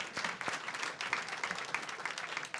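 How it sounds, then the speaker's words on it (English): An audience claps for a panel at a Michigan afternoon forum, a steady, moderately distant patter of many hands lasting a few seconds without voices. "Let's give our panel a wonderful applause."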